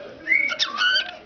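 A pet cockatiel whistles a short, bright, rising and wavering tune, close and clear over a quiet room.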